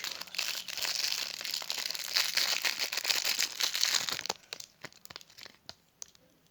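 A packet is torn open up close, giving about four seconds of busy crinkling and ripping. Sparse crackles and rustles follow as the sound tails off.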